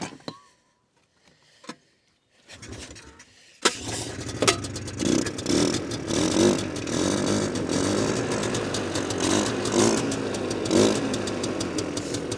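Cheap used Polaris quad ATV, primed with starting fluid, catching after a few quiet cranking attempts and then running rough and loud, its engine revving and fluctuating up close for the rest of the clip.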